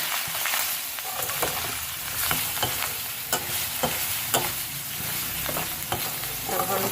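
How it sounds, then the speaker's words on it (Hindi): Chicken with black pepper and cumin being stir-fried for a Pakistani white karahi. A steady close sizzle fills the clip, broken by repeated scraping strokes of a spoon against the pan, with no talking. "अब हम इसको भूनेंगे अच्छे तरीके से थोड़ा सा 5 मिनट और"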